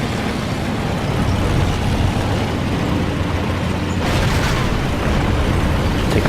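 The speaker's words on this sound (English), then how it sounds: "Taking fire from a lot of guys." Tank cannon hits landing in World of Tanks while a Type T-34 takes fire, a loud continuous roar of engine and explosions with a brighter burst of impacts partway through.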